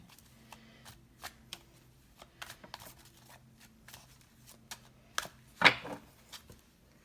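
Tarot cards being shuffled by hand, a run of quick papery riffles and soft snaps in a quiet room, with one louder burst of rapid flicks near the end and no talking.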